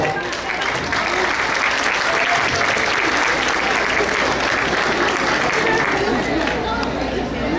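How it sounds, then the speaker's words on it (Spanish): A conference audience breaks into applause for a speaker, a dense and loud burst of clapping that continues steadily throughout, with faint chatter mixed in. "Un aplauso, por favor."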